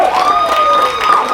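An outdoor crowd at a senior colts Australian football grand final cheers and shouts after a goal, a loud, close burst of excited voices with some whoops.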